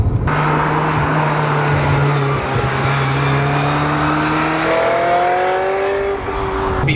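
A bright yellow Ferrari 355 Spider convertible's V8 engine revs loudly close by, its pitch climbing smoothly from a steady idle before easing back, with no voices.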